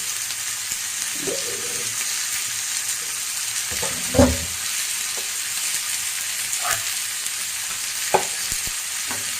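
Big tomatoes frying in a pan for a sardine fish curry, giving a steady sizzle with stirring knocks and a louder clatter partway through, close by with no talking.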